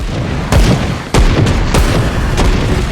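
Rifle shots from the Grim Dawn Definitive Edition action RPG on Xbox Series X, four loud booming reports spaced unevenly over steady game noise, with no voices.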